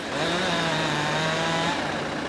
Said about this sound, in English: His chainsaw roars to life.